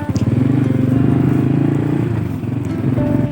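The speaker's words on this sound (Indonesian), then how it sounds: "Bersama motor Astrea kesayangannya, kami pergi menuju ke Bumi Ipukan" Honda Astrea motorcycle riding toward a camping ground, a close, loud, steady engine drone with a pulsing exhaust note that dips briefly before picking up again.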